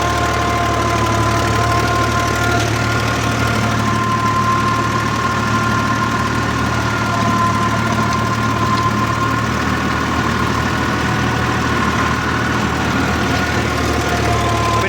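A farm tractor engine labours steadily under the load of a five-bottom plough and rotavator working deep soil, producing a loud, continuous diesel drone with a knocking throb and no voices throughout.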